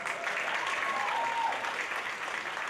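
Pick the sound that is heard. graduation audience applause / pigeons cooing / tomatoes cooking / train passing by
graduation audience applause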